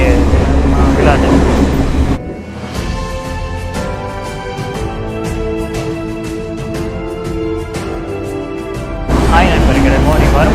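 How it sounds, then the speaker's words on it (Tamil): A fast-running train on a scenic Sri Lankan railway journey, a loud broad rumble with rhythmic wheel clatter throughout, and rushing wind noise swelling at the start and end. "ட்ரெயின் இவ்வளோ ஃபாஸ்ட்டாக போகுது"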